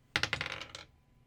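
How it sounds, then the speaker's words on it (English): Dice rolled onto a hard surface: a quick burst of several close, clattering hits and bounces over about half a second, then settling into quiet. "Okay, so rolling the dice."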